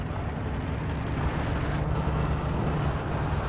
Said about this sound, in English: Pretty good walking Stuka barrage there.